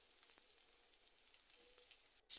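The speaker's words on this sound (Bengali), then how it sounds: "এবার আমি এই তেলের মধ্যে প্রথমে আলু কেটে নিয়েছি, এগুলো ভেজে নেব" Cut potatoes frying in hot oil for a Bengali rui fish curry with cauliflower, a steady bright sizzle running alone at moderate level before a brief drop near the end.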